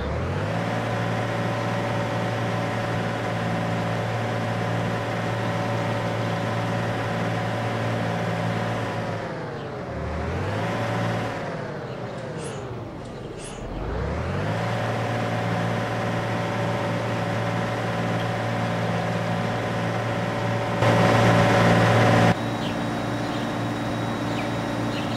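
A large diesel bus engine in the OMSI bus simulator starts and idles steadily with a deep drone, dipping briefly as it revs and settles, then a short burst of hissing compressed air near the end.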